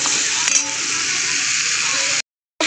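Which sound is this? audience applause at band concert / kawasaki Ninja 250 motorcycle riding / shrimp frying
shrimp frying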